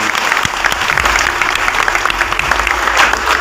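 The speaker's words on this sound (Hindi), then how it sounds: "एक बार जोरदार तालियों से आप लोग" Loud, dense applause from an audience at a public speech, a steady wash of many hands clapping without pause from start to finish.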